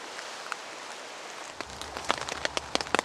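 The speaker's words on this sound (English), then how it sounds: "as soon as I put the camera down, torrential rain hammered down" Torrential rain hammers down on a tarp in the woods, starting as a soft hiss and then building into dense, close patter with sharp individual drops striking the fabric.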